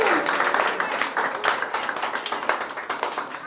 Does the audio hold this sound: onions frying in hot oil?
no